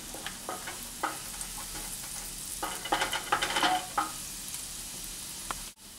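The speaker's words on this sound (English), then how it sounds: "Stir it until it becomes light brown." Fried rice with mixed vegetables stirred in a buttered frying pan: a soft sizzle underneath repeated scraping and clinking strokes of the spatula, busiest in the middle, with no talking.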